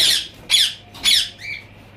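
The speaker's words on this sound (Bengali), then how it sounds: "এগুলো হচ্ছে লাভবার্ড।" Lovebirds on a rooftop bird farm give three sharp, close squawks in quick succession, about half a second apart, followed by a softer, shorter squeak.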